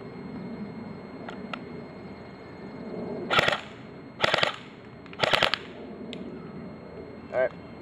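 An airsoft GSG 522 rifle fires three short, sharp full-auto bursts in close succession, each a rapid rattle of shots, with a few lighter single clicks before and after over a quiet background.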